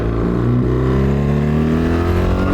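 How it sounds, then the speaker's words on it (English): BMW R1300GS motorcycle engine fitted with DNA air filters, running at low revs with a deep, throaty gurgle that swells steadily as the bike pulls away, loud and close with no talk. "straight away there is a much deeper sort of gurgle,"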